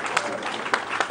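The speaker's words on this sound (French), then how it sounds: "Merci d'applaudir ce moment mémorable." Audience applause at a 2017 national promotional SME and crafts days ceremony, a steady burst of clapping from a crowd with a few sharper peaks, fairly close and filling the short moment alone.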